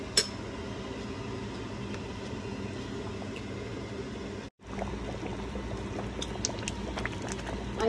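Steady bubbling and churning of a pot of oxtail broth for kare-kare at a rolling boil, dense and continuous, with a brief dropout midway before the boil resumes.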